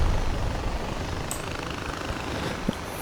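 Helicopter in the video game Far Cry 4, a steady loud rotor and engine roar filling the whole stretch with little variation.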